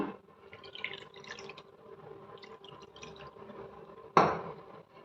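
Water poured into wheat flour dough for rotti: faint trickles and drips over a quiet background, then one sharp splash near the end before it settles again.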